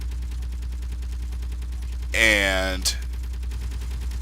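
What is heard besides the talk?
C-Series Starship frigate guns firing in a video game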